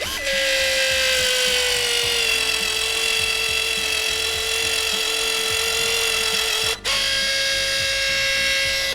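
A Dnipro-M DSG-200 electric sealant gun running at its lowest speed, a loud, steady motor whine with one brief dropout near the end before it resumes.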